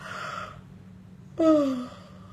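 A person yawns nearby: a breathy intake, a brief pause, then a voiced, downward-sliding yawning groan that fades out.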